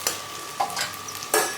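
Surati undhiyu vegetables are stirred and fried in a wok, with a few loud scraping strokes of a spoon over a low, steady sizzle.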